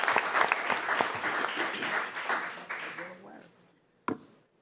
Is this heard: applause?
yes